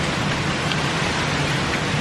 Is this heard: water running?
no